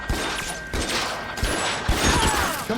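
Rapid bursts from a Tommy gun in a video game, a few short loud volleys with brief gaps between them, close and harsh, with no talking over them.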